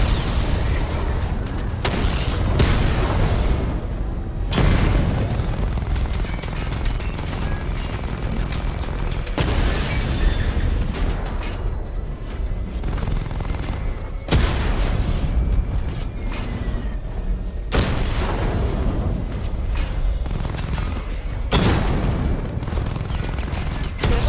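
Batman Arkham Knight video game: Batmobile missile barrage, a dense, continuous roar of rapid explosions and mechanical clatter, loud and close, with periodic bursts and brief dips throughout.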